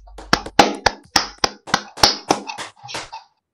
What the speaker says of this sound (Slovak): Len taký random potlesk do videa